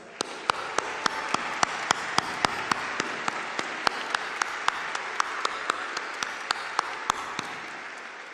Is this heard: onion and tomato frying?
no